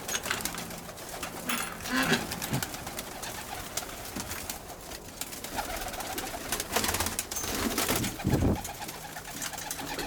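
Soft coos from Birmingham Roller pigeons repeat in an enclosed loft over steady background noise and faint rustling, with the birds fairly close.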